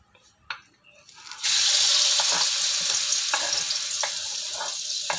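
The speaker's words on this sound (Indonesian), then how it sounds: "Kita tumis-tumis dulu nih tempenya" Tempeh with kencur hitting a hot pan and stir-fried, a loud steady hiss of sizzling oil that starts abruptly after a couple of soft knocks and continues close up with intermittent stirring clatter.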